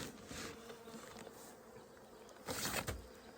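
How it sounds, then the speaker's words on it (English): Agitated honeybees buzz inside a hive freshly treated with oxalic acid vapour against varroa mites in spring, a dense steady hum that swells briefly louder near the end, with no talking. "bees in hive number 1 here are not happy"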